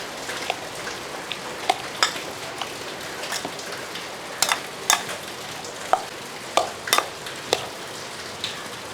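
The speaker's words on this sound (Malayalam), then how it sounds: "അപ്പോൾ ഇതെല്ലാം കൂടെ നല്ലപോലെ ഒന്ന് മിക്സ് ചെയ്ത് വെക്കും" Raw mango pieces tossed with salt and spice powders for a Kerala kadumanga pickle, giving sparse, irregular wet clicks and light scraping taps over a quiet background, close up with no voices.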